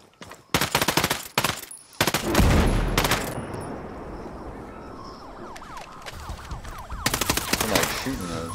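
Gunfire in the Ghost Recon Breakpoint video game: loud bursts of automatic fire and single shots cluster near the start and return near the end, with a sustained rumbling wash between volleys.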